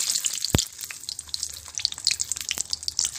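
Garlic added to hot oil in a pan for a radish and pepper curry, giving a soft steady sizzle with scattered crackles and one sharp clink near the start.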